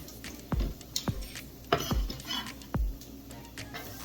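Garlic is chopped on a board in a home kitchen, four or five sharp knife thuds spaced irregularly, close, with faint clinks between them.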